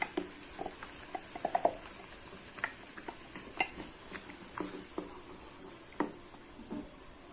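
A pot of pumpkin sambar bubbles and simmers while a spoon scrapes and taps against it in irregular strokes, close up with no talking.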